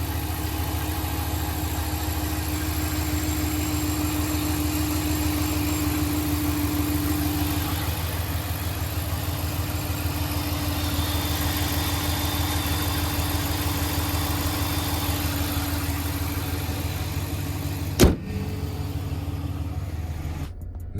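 Ram pickup truck, fourth generation, idling with a newly fitted cold air intake, a steady, smooth mid-low engine drone heard close and continuous, with a brief thump near the end.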